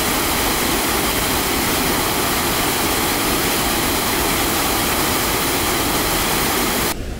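Sakura Falls in Hokkaido, where salmon leap upstream, roars as a steady, full-bodied wash of falling water heard close up, cutting off abruptly at the very end.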